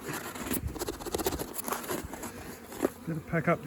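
Honey bees buzz around an opened pollination hive with fresh nectar and no brood, making a close, continuous droning hum under quiet talking and light handling noises.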